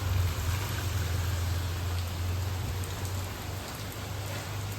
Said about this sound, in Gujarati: આજે અત્યારમાં વરસાદ ચાલુ થઈ ગયો છે